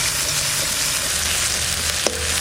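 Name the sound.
onion with ginger and garlic paste frying in a pan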